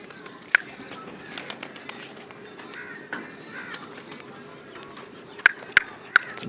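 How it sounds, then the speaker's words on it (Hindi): Pigeons are released to fly. Sharp, scattered wing claps crack out over a quiet outdoor background, with faint bird calls between them. "ये सब कबूतर उड़ा रहे हैं।"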